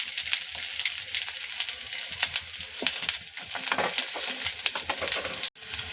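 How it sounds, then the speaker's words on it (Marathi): Steady sizzling and frying of coconut with occasional scraping stirs in a wok, loud and close, with no voices. "त्याच कढईमध्ये खोबरं सुद्धा परतून घ्यायचं"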